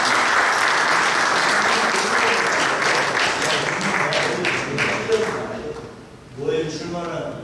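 Sustained applause from an audience at a church general assembly meeting, dense and loud, fading briefly near the end before picking up again.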